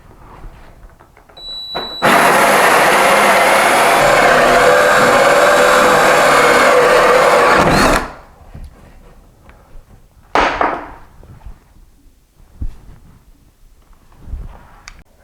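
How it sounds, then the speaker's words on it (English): A loud, steady power drill whines continuously for about six seconds while drilling through a wooden door, then stops, followed by a few brief knocks and handling sounds. "finish drilling from this side"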